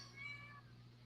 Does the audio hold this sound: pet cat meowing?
yes